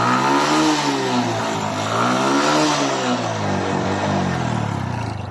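Kawasaki Bajaj CT 100 motorcycle engine running after three months of sitting unused, loud and close, with a rising and falling rev pattern that swells, eases and swells again before tapering off slightly.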